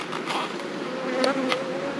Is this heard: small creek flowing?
no